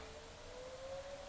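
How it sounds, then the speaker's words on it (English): A steady wailing fire whistle siren holds one sustained tone throughout, distant but clear above a low rumbling background at 5:30 in the morning, with no voices. "I don't know if you can hear that fire whistle going off"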